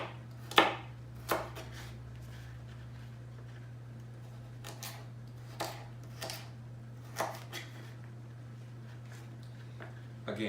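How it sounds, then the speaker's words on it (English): Carrots are chopped into small pieces with a knife on a board, about ten crisp, separate chops in an uneven rhythm, fairly close and clear, over a steady low hum. "I'm just going to chop them up like this. Put them into small pieces"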